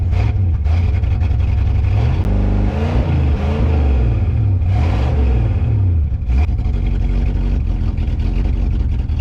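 A 1969 Ford Thunderbird engine runs loud and close with an uneven, misfiring idle, its low rumble rising and falling through a couple of throttle blips and surges.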